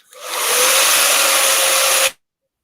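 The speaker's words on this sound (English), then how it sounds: "Now I turn on the dryer" Hair dryer switched on for salon finishing, a loud, steady, breathy whoosh with a faint tonal whine that holds for about two seconds, then cuts off abruptly into silence.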